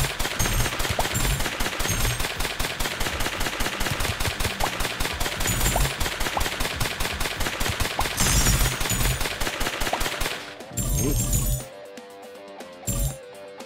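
Rapid gunfire rattles on in the Monster Blast demo game, a dense, fast, loud burst of shots with metallic clinks, stopping abruptly near the end and leaving a few scattered effects.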